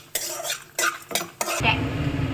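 Whole spices dry-roasting in a pan are stirred with a metal spoon, giving several sharp scraping and clinking strokes against the pan, followed by a soft steady sizzle.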